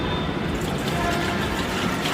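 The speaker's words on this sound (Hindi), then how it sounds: "लिक्विड डाल दिया" Liquid plant tonic for tulsi being poured into a container, a steady continuous gush of splashing and trickling, close and fairly loud throughout, with no talking.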